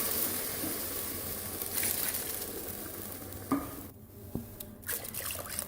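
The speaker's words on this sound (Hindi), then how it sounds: "अब मैं इसमें पानी डालने दूँगा, आधा प्रेशर पानी का डालना।" Browned goat trotters sizzle and crackle in a cooking pot, then water is poured in and the frying hiss changes and partly dies down, close and alone.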